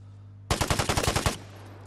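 A rapid burst of automatic gunfire in the PS5 game Vigor: about nine sharp, loud shots fired in under a second, then silence over a low hum.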